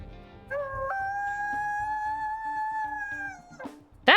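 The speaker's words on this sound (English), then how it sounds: "That almost reminds me of a loon. It's a very, very cool howl" A wolf's loon-like secondary howl from the WolfQuest video game, rising briefly and then holding a steady, wavering tone for about three seconds before fading, followed by a short noisy burst.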